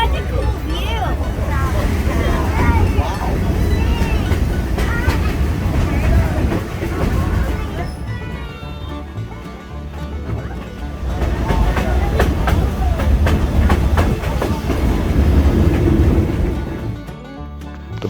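An old-time passenger train on the Buckingham Branch Railroad through Central Virginia rolls along with a steady low rumble and rattling wagons, loud and continuous, dipping briefly midway before rising again, with faint voices at times.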